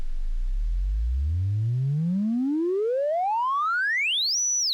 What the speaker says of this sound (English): Boom, we got ourselves a sine wave. What happens if we increase the frequency?